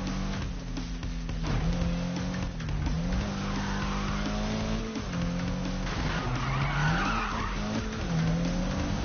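A car drifting in the Need for Speed racing game, its engine droning and revving while the tires squeal and skid almost continuously across several long slides, loud and close.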